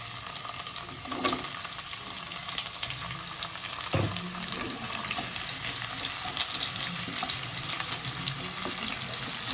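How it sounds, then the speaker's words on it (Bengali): Onion sizzling in hot oil for chicken keema tadka, a continuous soft crackle with occasional knocks and stirring clatter in the pan. "এইবারে আমি পেঁয়াজটা তুলে দিচ্ছি"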